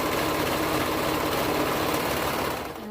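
A serger stitches a curved seam on a toddler hoodie in mauve and cheetah-print fabric, a fast continuous mechanical chatter that stops near the end.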